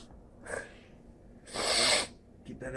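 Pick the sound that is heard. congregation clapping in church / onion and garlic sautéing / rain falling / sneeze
sneeze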